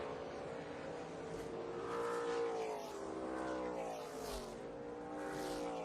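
NASCAR race cars at Daytona sliding to a stop after a big crash, engines droning and revving at a distance in a broad, steady roar with no voices over it.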